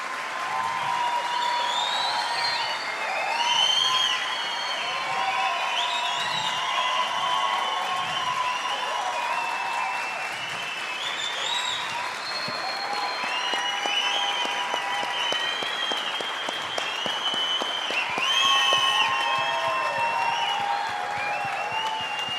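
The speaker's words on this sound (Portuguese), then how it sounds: "pedir de todo o coração uma salva de palmas para o Flávio." Sustained applause from an audience at a WTM Talks session, steady clapping with some cheering that stays even throughout, no speech over it.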